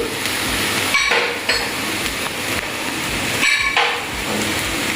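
Spoon stirring turmeric powder into a fish patty mixture: repeated dull knocks and scraping against the bowl in an uneven rhythm, close and fairly loud, with no talk.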